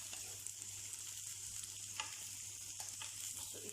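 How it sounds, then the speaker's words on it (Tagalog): Fried chicken mixed with garlic and onion in a hot pan for chicken hamonado, giving a steady bright sizzle with soft irregular stirring scrapes, close and continuous, and no talk. "After adding your fried chicken, mix it properly."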